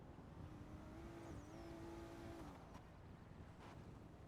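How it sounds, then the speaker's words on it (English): A car passes at a distance outdoors, a faint steady engine hum with a brief rising whine, heard alone against wind noise. "Why is there a car? I don't like that sound."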